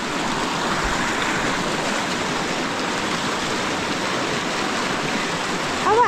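The Daram river stream in Nepal, where people are fishing, rushes and flows: a continuous broad wash of moving water, fairly loud and close, with no talk over it.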